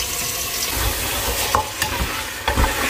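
Meat frying with spices in a pan, a continuous close sizzle with a few sharp scraping stirs near the end, no talking.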